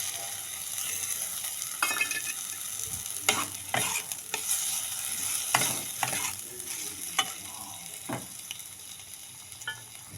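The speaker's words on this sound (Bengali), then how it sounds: "এবার দিয়ে দেব কেটে রাখা টমেটো।" Chopped tomatoes sizzle in a hot pan while a spoon stirs them, steady frying crackle punctuated by repeated sharp scraping strokes, fairly close, with no talk.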